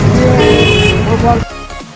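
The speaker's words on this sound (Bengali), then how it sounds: "এখন অটো করে যাচ্ছি শিয়ালদা স্টেশনের দিকে" Auto-rickshaw ride through traffic towards Sealdah station in Kolkata, a loud droning engine and road rumble with sustained horn honking that cuts off sharply near the end, close and constant.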